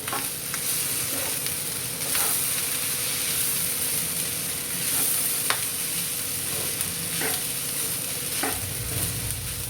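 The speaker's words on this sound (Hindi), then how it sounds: "अब हम इसमें डालेंगे बचे हुए चावल, बारीक कटा हुआ धनिया, नमक स्वाद के अनुसार। अब इसे अच्छे से मिला लेते हैं।" Leftover rice pulao with finely chopped coriander and salt being stirred in a pan, a soft continuous sizzle broken by scraping spoon strokes and occasional light clinks, close and steady with no talking.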